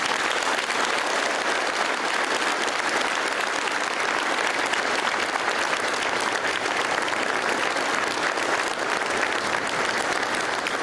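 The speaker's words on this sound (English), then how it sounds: "Please give this outstanding group of people your round of applause." A large audience at a sports awards dinner gives a long, dense round of applause, steady and loud throughout with no break or talk.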